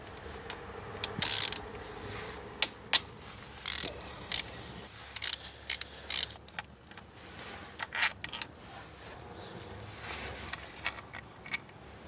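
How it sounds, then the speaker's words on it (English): Ratchet wrench loosening two T40 screws on an Opel Corsa OPC Nürburgring Edition, with quick clicking bursts repeating in spurts over faint workshop background, fairly close. "And now we are going to remove those two screws. Yes, T40."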